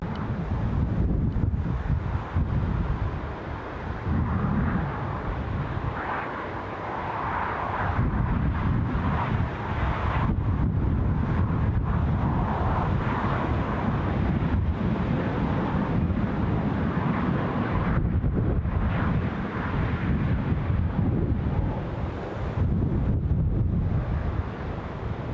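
Strong wind buffeting an outdoor microphone at Newcastle International Airport, a steady loud rumbling roar with gusty swells and a faint aircraft-like drone beneath it, no speech.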